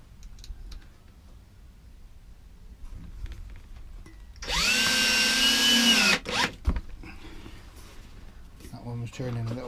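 A power drill drives a screw into a model railway layout table, one loud whining burst of nearly two seconds followed by a few short clicks, with someone talking before and after.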